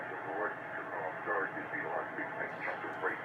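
A Hallicrafters SX-42 vacuum tube communications receiver is tuned to a single sideband signal, producing garbled, warbling radio voices over a steady hiss of band noise. The sound is continuous and moderately loud.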